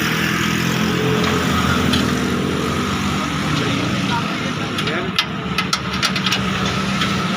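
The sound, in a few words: Massey Ferguson MF 385 tractor engine idling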